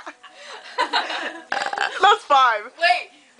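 Burping comes up several times, close and loud, mixed with laughter and chatter from people nearby.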